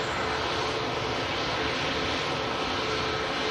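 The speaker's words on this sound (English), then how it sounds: "next heavy departure here from Manchester" A heavy airliner with Rolls-Royce engines departing Manchester Airport, a loud, dense and unbroken jet roar at close range.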